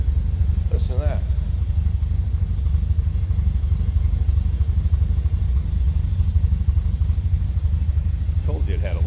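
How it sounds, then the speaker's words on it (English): A 1972 MG MGB convertible engine idles with a steady low rumble and slight clatter, close and continuous throughout, with brief faint voices near the start and end. "Told you it had a little bit of rumble for an MG."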